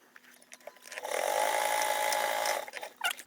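A domestic sewing machine topstitching the long edges of a fabric tote bag, a steady whirring hum for about a second and a half between quieter handling noises.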